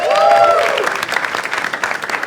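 Audience at a comedy show, India's Got Latent, breaking into loud applause after a brief voiced cheer at the start, dense clapping that fades slightly toward the end.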